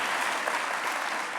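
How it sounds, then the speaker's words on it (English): An audience at a Boys & Girls Clubs alumni hall of fame event breaks into dense, steady applause, loud and close, with no talking over it. "You can clap."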